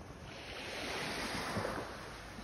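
A broad rushing wash of sea waves swells and recedes, mixed with wind buffeting the microphone, no speech, on a sea muddied after flooding.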